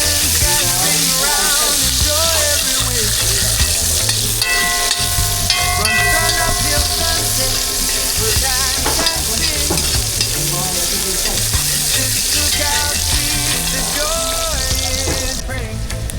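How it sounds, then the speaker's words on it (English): Onion, pepper and pimento sizzle and get stirred in a pot in an auto mechanic garage, a loud, continuous frying hiss throughout with music-like tonal sounds layered over it. "so we gonna add the onion to saute, pepper, pimento"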